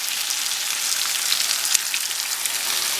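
Kuku sabzi, a Persian herb and egg dish, sizzles steadily in olive oil in a pan, a constant bright crackling hiss with a few sharper pops.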